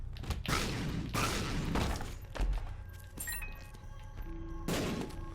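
Bombs detonating in The Binding of Isaac Afterbirth+: a few loud, crunchy blasts with shattering debris, spaced apart and separated by quieter game sounds, with a final burst near the end.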